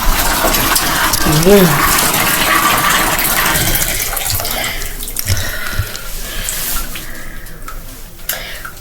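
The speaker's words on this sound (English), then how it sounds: "let me go and check my bath water" Bath water runs into a tub in a steady, rushing splash that fades somewhat toward the end, with a person talking and moving around nearby.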